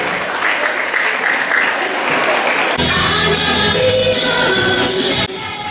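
Audience clapping at a school literary fiesta as children begin their dance performance, steady applause that gives way midway to loud music starting up over the crowd.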